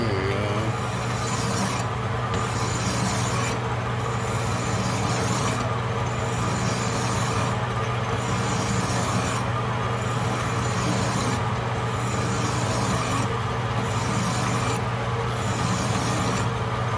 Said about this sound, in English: I know my big lathe file will take care of that pretty quick.